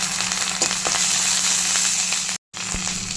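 Split green chilies and curry leaves fry in hot oil, a loud, dense, close sizzle that runs continuously, broken only by one brief dropout near the end before resuming at full strength.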